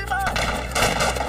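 Gunfire in a reenacted firefight during a hostage rescue raid, a brief burst of loud, rapid overlapping shots with a voice faintly beneath.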